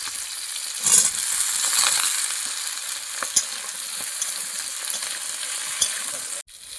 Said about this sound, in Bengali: দেখো তেলগুলো একটু ভাজা ভাজা হয়ে যাওয়ার পরে একটু আমি বেগুনগুলো দিয়ে দেবো।